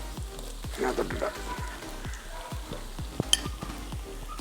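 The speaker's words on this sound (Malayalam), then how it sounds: "നമുക്ക് ചതച്ച് വെച്ചിരിക്കണം ഉള്ളി നമുക്ക് ഇട്ട് കൊടുക്കാം" Crushed shallots frying in oil with green chilli and ginger for a fish head curry, a steady close sizzle with repeated stirring scrapes in a regular rhythm and a brief clink near the end.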